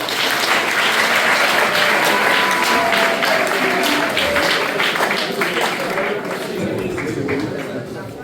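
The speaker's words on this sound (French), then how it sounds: "Si j'étais collégien, j'allais applaudir" Sustained loud applause from a crowd of former secondary-school students celebrating a priest's 70th birthday in Idiofa, dense clapping that fades slightly toward the end with voices mixed in.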